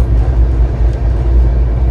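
A steady, heavy low rumble fills the space, like a train rolling along the tracks from inside a carriage of the Humsafar Express from Santragachi to Rourkela.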